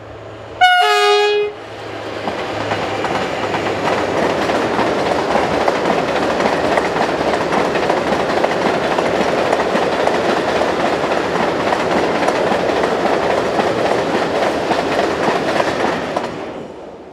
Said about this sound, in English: with a southbound ballast working